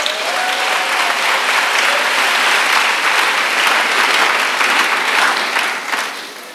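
A congregation at a singles' church retreat applauds and cheers for Jesus, a loud, dense, sustained wash of clapping that fades slightly at the end.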